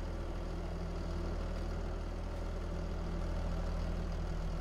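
Steady tractor engine idling in Farming Simulator, a constant low drone with a faint harmonic hum running unbroken throughout, no voices over it.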